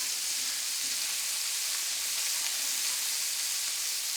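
Shallot and garlic sizzling in a pan with bacon, a steady, even hiss of frying that carries on unbroken throughout with no voices.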